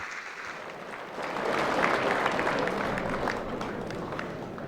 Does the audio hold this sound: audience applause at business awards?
yes